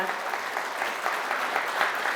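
An audience at the founding assembly of an international religious union claps to welcome a Catholic parish priest. The applause is fairly soft and distant, a steady wash of many hands with no break.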